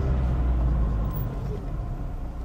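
A manual car pulls away from a standstill as the driver finds the clutch biting point and applies the accelerator during a driving lesson in Juvisy-sur-Orge, a steady low engine rumble heard close and continuous, without talk.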